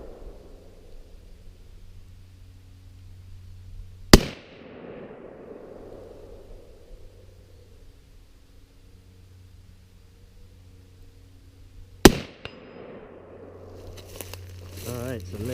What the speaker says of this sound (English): Nate did some good shooting.